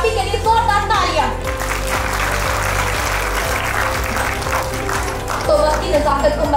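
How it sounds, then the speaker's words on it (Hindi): An audience applauds at an achievers award ceremony, steady clapping mixed with music and a voice speaking over a PA. "आपकी कामयाबी के लिए जोरदार तालियां"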